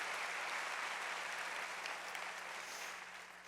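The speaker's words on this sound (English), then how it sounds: "Give yourselves a round of applause for that" A school audience at an opening-of-schools celebration breaks into applause, a dense, even rush of clapping that fills the moment and begins tapering off toward the end.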